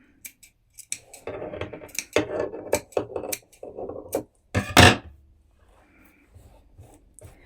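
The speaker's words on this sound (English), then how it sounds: "You may wish to trim the seam allowance a little. Snip into it." Scissors snip through a fabric seam allowance while sewing wide leg trousers, a run of short crisp close cuts with pauses between them and one louder snip near the end.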